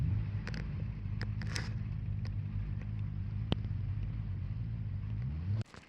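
Several motorcycles sit idling at the edge of a main road, giving a steady, low engine rumble that holds evenly throughout at a moderate distance and cuts off abruptly near the end.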